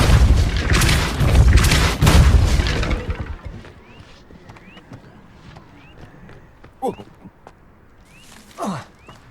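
A Depulso force spell cast in Hogwarts Legacy, with a cluster of loud, heavy booming bursts in the first few seconds, then quieter scattered thuds and light pinging effects trailing off.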